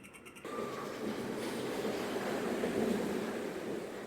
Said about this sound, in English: just behind this station entrance is this interesting water feature